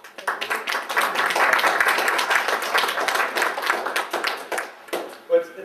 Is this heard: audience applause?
yes